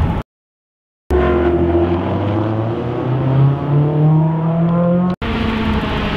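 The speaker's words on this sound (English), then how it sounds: "All you hear is engines and just full on sending." Race car engines roaring loud and close on the track at Summit Point, a sustained full-throttle howl with rising pitch that cuts off abruptly near the end, after a brief silent gap at the start.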